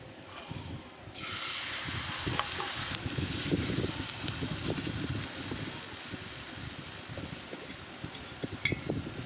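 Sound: white cooking oil sizzling in a hot nonstick pan

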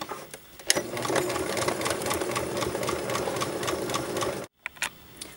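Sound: sewing machine straight stitching bloomers tie straps

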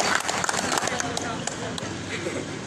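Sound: crowd applause at swearing-in ceremony

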